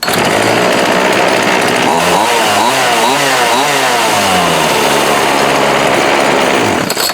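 A Homelite D3850B chainsaw runs loud and close after being restarted, its engine holding a steady high buzz with a brief dip and rise in pitch midway before cutting off at the end.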